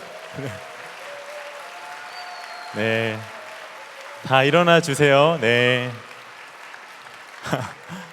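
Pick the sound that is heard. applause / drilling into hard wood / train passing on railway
applause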